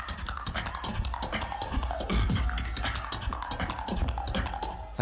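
A beatboxer performs a dense, rapid run of clicky, knocking percussive sounds, imitating a cartoon-style drumming on skeleton heads, close and continuous with a low bass hum underneath and no talking.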